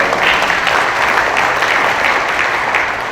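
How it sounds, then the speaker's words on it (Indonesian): An audience at a speech event attended by the army chief of staff breaks into loud, dense applause, a steady wash of clapping that fills the moment and tapers slightly at the end. "Tepuk tangan buat orang Sunda."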